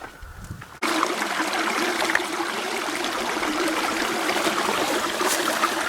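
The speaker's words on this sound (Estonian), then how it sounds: "Päris esimene jõgi siis Saharas, mis me läinud oleme." River water flowing in the Sahara desert in Algeria, a steady close-up rushing trickle over stones that starts abruptly after a quiet second and then carries on unbroken at an even level.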